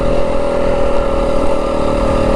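A 2025 Yamaha WR250F four-stroke dirt bike engine holds a loud, steady, buzzing drone close by while riding in the snowy Dragoon Mountains near Pearce, Arizona. No voices are heard.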